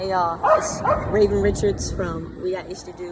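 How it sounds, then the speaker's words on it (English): Dogs yip and bark repeatedly outdoors behind someone speaking close to the microphone, the barks overlapping her talk throughout. "if you can hear dogs in the background"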